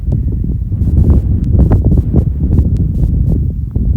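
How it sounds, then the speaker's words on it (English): Low, constant rumble of wind buffeting outdoors in the Mojave Desert, blustery and loud with gusty fluctuations throughout and no voices. "There's a breeze. It's probably going to be really windy today."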